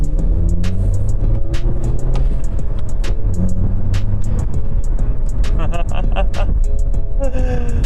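A deep, loud exhaust on a Volkswagen Golf Mk6 1.4 TSI with the rear silencer box removed rumbles and burbles continuously close by, with sharp crackles and pops rising above the growl; a voice speaks over it.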